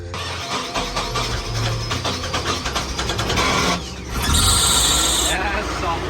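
A project car's engine running ahead of a test drive, a steady loud motor drone with revving swells and a hissing burst near the end, with people talking over it.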